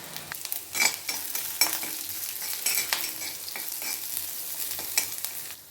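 Onions and crushed garlic fry in oil for a beans fry, giving a continuous close sizzle with occasional spoon stirs and light clinks against the pan, with no voices.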